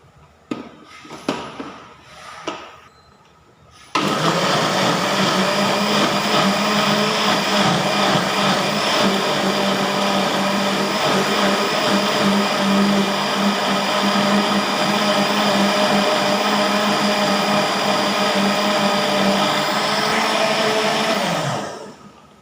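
A blender runs loud and steady for about eighteen seconds, blending khi lek (cassia) leaves with yanang leaf water for a Thai curry, after a few brief clatters; the motor drone holds even, then cuts off.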